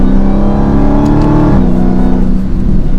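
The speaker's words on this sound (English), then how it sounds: "Alright, a little bit of an acceleration from third gear." A Dodge Charger SRT Hellcat Redeye accelerates in third gear, its loud engine note rising steadily, then briefly dipping before climbing again, with no speech over it.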